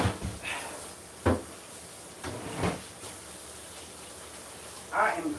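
A refrigerator door swings shut in a home kitchen during holiday vegetarian meal prep, giving a few soft thuds and clunks spread over several seconds against a quiet room hiss.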